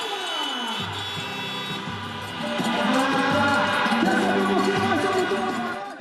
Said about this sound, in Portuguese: No lugar de aplausos e gritos, buzinaço para saudar a banda que tá lá no palco